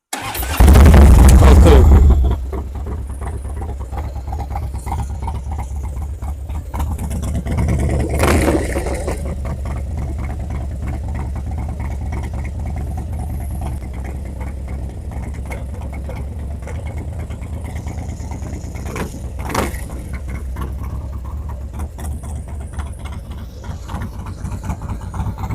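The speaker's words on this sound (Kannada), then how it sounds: "ಗುಡುಗು ಬಂದಂಗ್ ಬರುತ್ತೆ ಸೌಂಡ್ ಮಾತ್ರ ಗಾಡಿದು." A Harley-Davidson motorcycle engine starts with a loud, heavy burst, then settles into a deep, thudding idle rumble with occasional revs, while people talk nearby.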